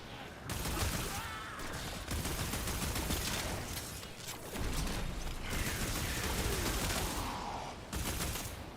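Gunfire in the video game Warframe comes as dense, sustained bursts of rapid shots and mechanical clatter, loud and continuous with brief pauses, with a voice speaking faintly underneath.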